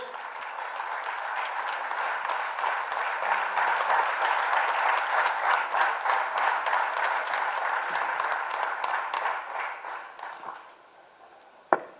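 A crowd at a political event applauds Central Chennai candidate Vinod Selvam, dense continuous clapping that holds steady, then tapers off near the end with a sharp knock as it fades.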